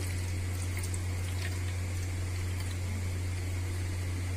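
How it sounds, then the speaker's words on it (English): Water runs steadily into an ice tray, a continuous close splashing pour with a strong low hum beneath it. "let's fill this tray of ice with water"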